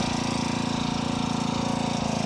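The small engine of an FRP MB40 minibike runs steadily at close range, a loud, buzzy, even drone with a rapid regular pulse, alone with no voices.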